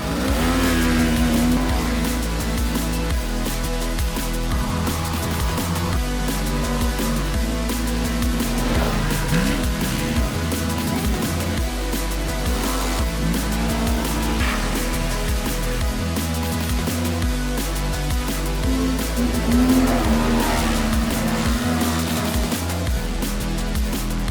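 A Segway Villain 4x4 electric side-by-side buggy on a test drive: a loud, continuous driving noise with tire squeal and shifting whine throughout, close by and steady, with no talking.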